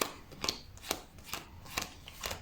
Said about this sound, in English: Spectator deals the cards into two separate piles.